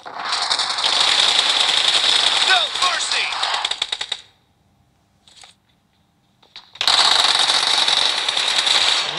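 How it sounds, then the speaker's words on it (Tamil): Rapid automatic gunfire from a mobile shooter video game crackles in long dense bursts, stops briefly for a near-silent gap with a faint shot, then resumes loudly. "பக்கத்துல வந்து சுடுறாங்க."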